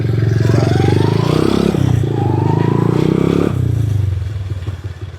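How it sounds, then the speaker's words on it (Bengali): A homemade motorcycle built from a bicycle runs close by with a buzzing, rattly small engine note that holds steady, wavers briefly as it is ridden, then fades slightly toward the end. "তুমি এই যে এই সাইকেল থেকে মোটরসাইকেল বানাইছো"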